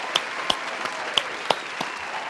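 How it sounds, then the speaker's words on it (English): Applause from a small group, a handful of sharp separate claps at an uneven pace, moderately close and fairly faint against a quiet room. "Round of applause, ladies and gentlemen."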